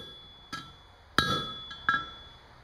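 A blacksmith hammers steel scrollwork on an anvil, three sharp ringing metallic strikes at uneven intervals, each with a short bright clang and quick decay, close and fairly quiet with no talk.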